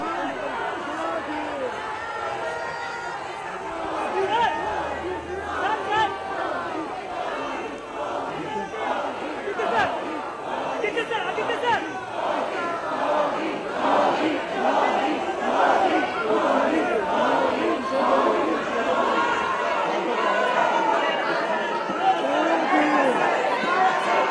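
BJP corporators in Mumbai chant for Modi at the new mayor's seating, a dense crowd of many voices rising in rhythmic shouted bursts through most of the stretch, loud and close.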